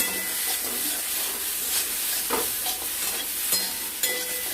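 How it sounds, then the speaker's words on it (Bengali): Cumin powder stirred into a thin fish curry with small fish, potato, pointed gourd and green banana, giving a close, continuous sizzle and bubbling with repeated scrapes of a spoon through the pan. "জিরের গুঁড়ো দিয়ে আমরা একটু নাড়াচাড়া করে নেব"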